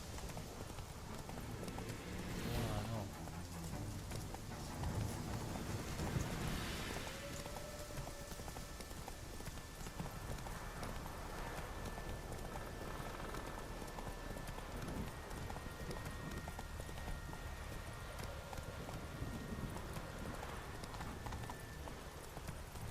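Roach, Geralt's horse in The Witcher 3, gallops in a steady clip-clop of hooves that runs the whole way through, close and moderately loud over a faint rain-like wash, with no one talking.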